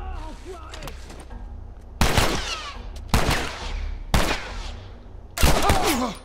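Sharp bursts of gunfire in The Last of Us crack in several separate volleys, loud and close, with quieter background noise between them.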